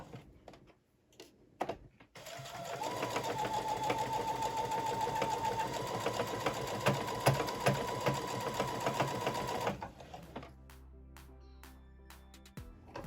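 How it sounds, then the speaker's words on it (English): A sewing machine runs steadily for about eight seconds, top stitching a knit neckband onto fabric with a fast, even mechanical whir, then stops, leaving quiet handling sounds. "Now I'm just going to top stitch this on right onto the fabric"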